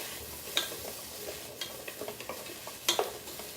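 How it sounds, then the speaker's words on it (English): Chopped vegetables for a vegan lasagna are stirred in a pot: a soft, steady sizzle with scraping and a few sharp clacks of the spoon against the pot, close by and with no talking. "So we'll give that a little stir."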